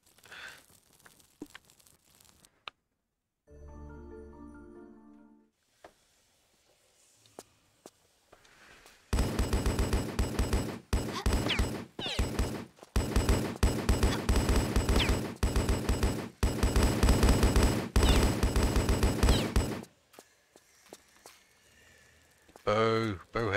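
Turret gunfire in Tomb Raider: Resurgence starts after quieter game sounds and a short musical sting, then pounds out as a long, loud, rapid stream of shots for about ten seconds before cutting off, with a voice reacting in places.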